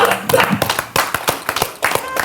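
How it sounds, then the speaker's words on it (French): A studio audience claps at the close of a TV sports show, a scattered, uneven patter of hand claps mixed with some voice sounds, moderately loud and close. "On applaudit"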